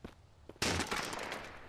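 Sniper rifle fire in the Mist Survival video game: a faint thump is followed by a sudden loud crack and a sustained rattling burst of gunfire, close and harsh.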